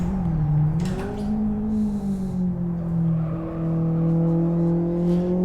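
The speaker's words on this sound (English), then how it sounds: "And some tire slip." In the racing sim Live For Speed, a car engine hums steadily under a rumble while the tires slip and squeal in short bursts as the pitch rises and falls, close and continuous.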